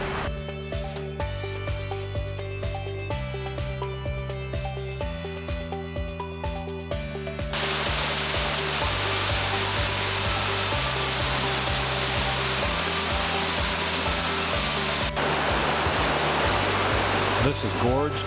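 Gorge Creek Falls in the North Cascades, beside a bridge near Gorge Creek, pours as a steady broadband roar that grows fuller partway through, with tonal music layered over it.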